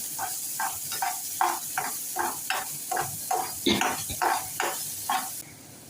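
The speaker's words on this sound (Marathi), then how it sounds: "बारीक चिरलेला कांदा तो छान गुलाबीचं परतून घेऊया" Finely chopped onion sautéing in a pan, heard as a steady sizzle broken by a regular series of scraping stirs, roughly two per second, close and fairly loud.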